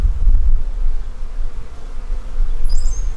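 Honey bees swarm over a hive frame of nurse bees during a pre-harvest bee barn inspection, giving a close, steady low buzzing drone.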